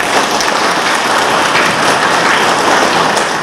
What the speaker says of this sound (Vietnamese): xin quý vị một tràng pháo tay nữa cho Bùi Phát